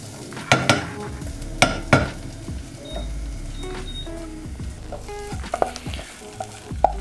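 Steak sandwich filling stirred while it sizzles loudly in a pan, close up, with sharp scrapes and knocks of the spoon against the pan over a continuous frying hiss.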